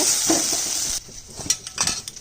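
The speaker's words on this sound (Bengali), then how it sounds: "মশলার বাটি ধুয়ে জলটা দিয়ে দিচ্ছি।" Water from rinsing a spice bowl is poured into a pan of lightly fried Gobindobhog rice, giving a loud, close burst of hissing for about a second, then quieter sizzling with a few clinks of a utensil against the pan.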